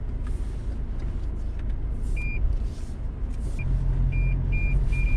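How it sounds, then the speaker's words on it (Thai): Short, high electronic parking-sensor beeps sound intermittently, quickening toward the end, over a steady low rumble of a Toyota Fortuner Legender 2.8 4WD engine and road noise, near a deep ditch. "เห็นได้ว่ามี เสียงสัญญาณของเซ็นเซอร์ก็จะเตือนตลอดเลยนะครับ"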